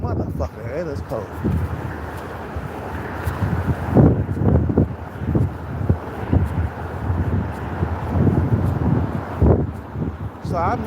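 Strong, cold wind on a stormy night, buffeting the microphone as a low, gusty rumble beneath someone talking throughout.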